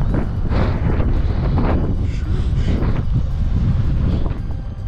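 Strong wind buffets the microphone outdoors during urban exploration of an abandoned site, a loud continuous low rumble with gusty surges and no talk.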